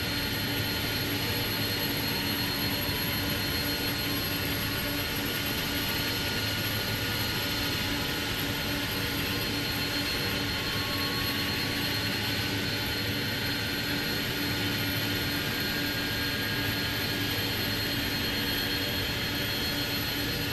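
Jet engine of an Airbus A300-600F cargo freighter spooling up during engine start in Microsoft Flight Simulator 2024. It is a steady, loud turbine roar with a constant whine layered on top, continuous and unbroken throughout, with no talk.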